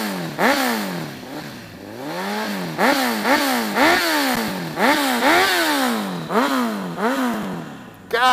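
A 2006 Honda CBR1000RR sport motorcycle engine revs up close, several sharp throttle blips rising and falling in a steady rhythm, loud and raspy.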